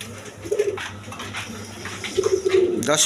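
Lahori pigeons, a big-sized pair, coo in short low throaty bursts, one near the start and a longer run near the end, set against a steady background hum.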